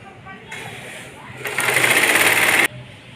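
Sewing machine stitching around the edge of an umbrella frock, starting with a short run, then a louder steady whirring burst of rapid stitches. Someone speaks over it.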